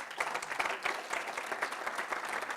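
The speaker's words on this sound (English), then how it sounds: "How about a round of applause for Pete Corelli?" Audience applause at a national security talk, a steady burst of clapping from a crowd that carries evenly through the whole moment at moderate volume with no voices over it.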